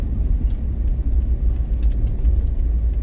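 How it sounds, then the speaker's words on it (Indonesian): A car passes on a road during a long Mamuju to Makassar trip, heard as a steady low rumble of engine and tyres throughout, fairly loud and close, with faint clicks over it and no talk. "Awas, ada mobil."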